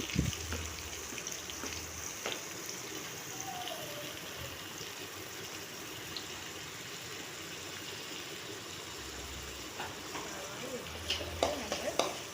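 Sliced onions hit hot oil in a pan and fry with a soft, steady sizzle, stirred now and then with light scraping and a few sharper clinks toward the end, fairly quiet overall with no voices.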